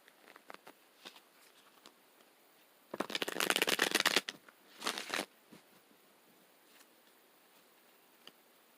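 Tarot cards shuffled in two short close bursts of rapid papery riffling, separated by quiet pauses with faint taps and ticks of handling.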